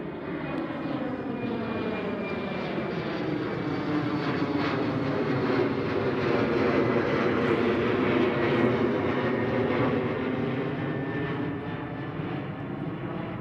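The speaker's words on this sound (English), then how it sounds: "KLM City Hopper." KLM City Hopper airliner at Schiphol Airport, a loud, steady engine roar that holds for the whole stretch with a slowly shifting whine, no talk over it.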